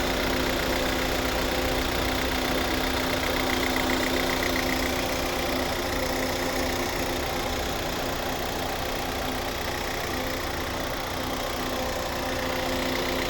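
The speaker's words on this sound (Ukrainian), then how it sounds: "дуже рівно тихо працює" A 2022 Jeep Renegade's 1.3-litre turbo petrol engine idles smoothly and continuously at a steady hum, close by, with no voices and no change in pitch.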